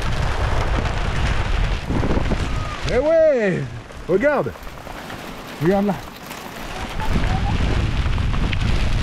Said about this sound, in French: Il y a la grêle et tout là, ça y est.